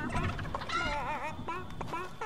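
Cartoonish chicken clucks and warbling squawks from Fortnite gameplay, a few quick bursts heard up close and fairly clear, with no speech over them.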